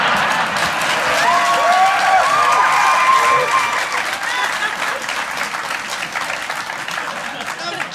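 Theatre audience at a live podcast recording applauding and cheering, dense sustained clapping with a few whoops rising over it, then gradually thinning toward the end.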